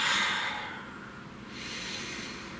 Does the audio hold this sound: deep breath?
yes